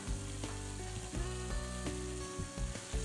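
Ground meat browns in a hot pan for Bolognese sauce, giving a steady, dense sizzle and spatter that continues throughout with no voices.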